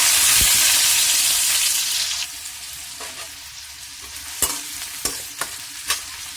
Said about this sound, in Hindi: 2 मिनट फ्राई करेंगे, शैलो फ्राई।